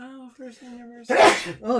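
A single sharp, explosive sneeze bursts out indoors at home amid household dust, sandwiched between stretches of people talking nearby.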